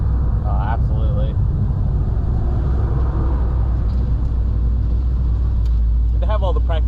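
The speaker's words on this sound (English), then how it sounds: "Man, what a cool car." A 1957 Chevrolet 210 wagon engine idles with a steady low rumble throughout, close and continuous, while people talk over it in a few short bursts.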